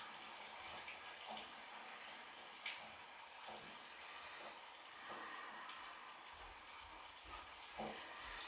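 Water runs from a household tap, pushed out by the pressure of a well tank, a steady faint hiss and rush with small clunks and shifts in flow.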